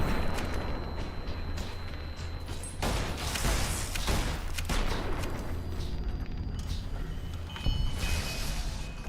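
Gunfire crackles in Fallout New Vegas combat, with scattered shots and short bursts over a low humming game backdrop and no voice.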